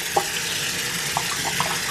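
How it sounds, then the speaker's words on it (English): Tap water runs steadily over rice being rinsed for sprouting, a continuous hiss of flow with a few soft splashes and drips standing out near and alone. "So I'm just gonna put the water on."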